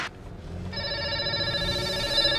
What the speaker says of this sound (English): Her phone ringing non-stop while trying to coordinate all matters regarding the distribution.